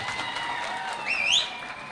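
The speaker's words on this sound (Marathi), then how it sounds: "एकदा हात वरती जोरदार टाळी" A crowd at a political party joining ceremony keeps up a steady wash of applause with a brief whistle-like squeal rising near the middle, moderately loud throughout.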